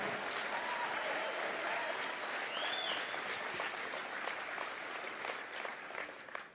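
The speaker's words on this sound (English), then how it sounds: "Give yourselves a round of applause for having an uncommon desire to reach your goals" Audience at a motivational talk applauding: a sustained, even wash of many hands clapping together, moderately distant and fairly quiet, with no talking over it.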